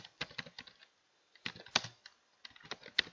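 A name is typed on a computer keyboard while writing an email: quiet, close key clicks in quick irregular bursts with a short pause between them.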